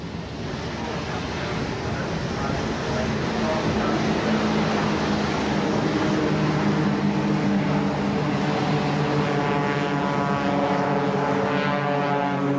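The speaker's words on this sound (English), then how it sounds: "These are low-level flyers par excellence, the darlings of the rural sector, the Fletcher Fu-24 top dressers and their pilots." A Fletcher FU-24 topdresser aircraft flies low, its propeller engine giving a steady loud drone with a rising, shifting harmonic whine as it passes close, continuous throughout with no talk.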